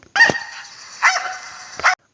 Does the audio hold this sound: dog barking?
yes